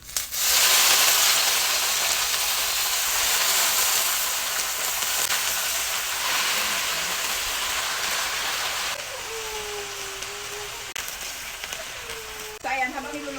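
Kangkong leaves sauté with browned garlic in a hot pan, a loud continuous hiss of sizzling that rushes in at once and stays steady, with a voice talking briefly over it later.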